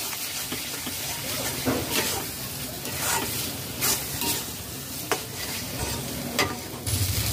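Kalmi greens (water spinach) being stirred in a frying pan, with a steady sizzle and hiss under repeated scraping strokes of the spatula, close and continuous.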